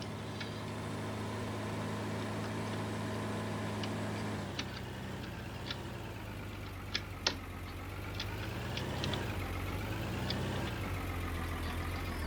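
A tractor engine in Farming Simulator 19 idles steadily and then shifts to a lower, varying drone as the tractor reverses, with occasional faint ticks and clicks. No one speaks.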